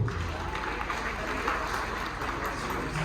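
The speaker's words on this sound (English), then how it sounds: "I think that deserves a round of applause." Steady applause from an audience at a gathering in Nairobi, Kenya, a continuous even patter of clapping at moderate distance with no pauses.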